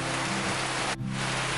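Steady rain pours down in a dense, even hiss, close and loud, with a brief dip partway through.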